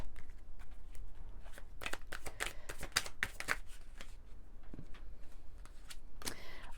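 A deck of oracle cards is shuffled by hand, with crisp riffling and slapping bursts at close range and no voices.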